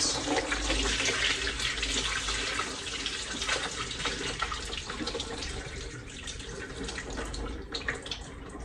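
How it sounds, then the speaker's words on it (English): Pasta water gushing and splashing out of a pot into a sink, a continuous rushing pour that gradually thins out. "I'm gonna hold back the pasta as we pour the water out"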